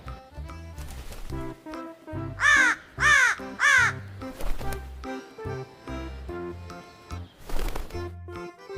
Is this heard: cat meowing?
no